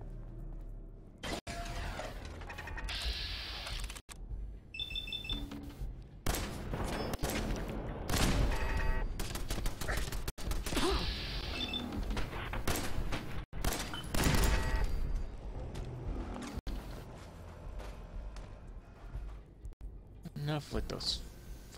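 Turret gunfire in Fallout 4 during combat inside the Weston Water Treatment Plant, with loud repeated bursts and sharp impacts running through the whole stretch, mixed with game effects and someone talking over it.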